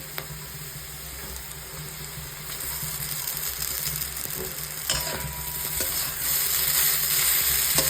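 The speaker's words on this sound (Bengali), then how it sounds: "এইবার আমি চাউমিনটা দিয়ে দেবো" Chowmein noodles stirred and frying in a pan with potatoes and onions, a steady sizzle with scraping stir strokes that grows slightly louder midway, close and continuous with no talking.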